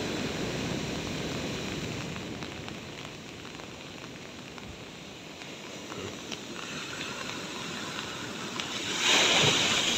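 Large ocean waves at Tambakrejo beach on the south coast of East Java under heavy overcast, a continuous rumbling surf wash with a louder breaking surge near the end, no talk.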